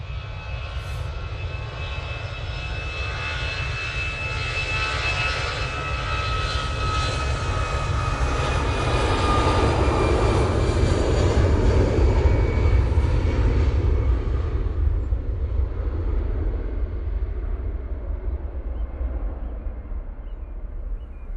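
An airliner departs from Manchester Airport with a loud, sustained engine roar. It swells to a broad peak around the middle, then fades slowly as it climbs away, with a thin high whine riding above the rumble and no voices.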